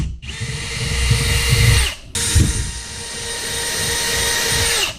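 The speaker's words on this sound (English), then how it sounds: "So what you do is you use this drill bit" A power drill with a bit bores a hole in a kayak, two close, loud bursts of high whine separated by a short pause.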